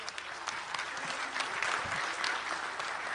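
Applause from an audience in a presidential hall at a ceremony honoring President Félix Tshisekedi, dense and steady, heard at moderate distance with no voices over it.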